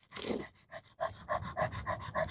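Sasha the dog pants close by, a short burst of breath followed by a quick, regular run of rapid panting huffs.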